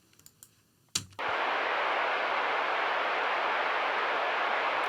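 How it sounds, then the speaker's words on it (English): A pink noise test signal for speaker level calibration, a steady broadband hiss that starts abruptly after a few soft clicks and a brief thump, then holds at an even level. "you then want to move over to the pink noise"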